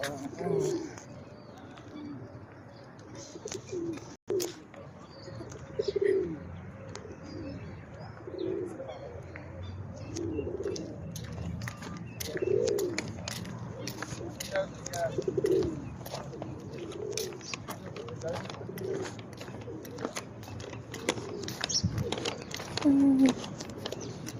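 Soft, repeated cooing of a pigeon in a lake park comes in a steady rhythm beneath a voice talking, with outdoor background noise.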